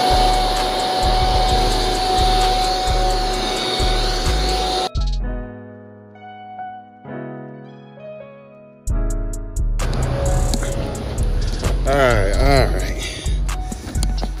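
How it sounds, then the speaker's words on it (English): An air blower drying a BMW E36 car roars loudly in steady blasts, cuts out for several seconds, then starts up again. Someone speaks over parts of it. "So, with my one towel and a blower,"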